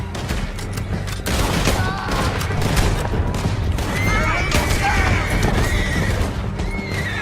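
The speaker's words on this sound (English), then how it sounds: "Lance, men on horses." Horses whinny and gallop amid a Red Dead Redemption 2 gunfight on PS4, with shrill neighs rising over thudding hoofbeats and bursts of gunfire, loud and continuous throughout.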